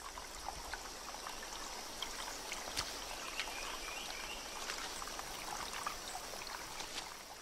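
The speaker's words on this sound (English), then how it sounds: "The water starts to flow." A stream of water flows steadily over rocks in Borneo, with a soft continuous rush and trickle, moderately faint and with no voices.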